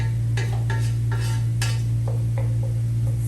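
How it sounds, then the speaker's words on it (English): Onions stirred in a pan for a homemade pasta sauce, a utensil scraping and clinking against the metal in a few separate strokes over a steady low hum, with no talking. "these onions have to get translucent enough to when I put the meat in, they can continue to cook but not be hard"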